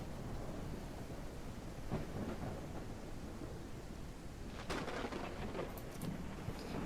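Steady rain hisses through a ranch game while low thunder rolls underneath, with a brighter crackling swell of storm noise near the end and no voices.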